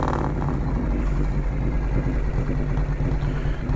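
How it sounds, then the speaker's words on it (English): Vehicle engine idling nearby, a low, even rumble that holds steady the whole time with no voices. "she's idling pretty normal right now"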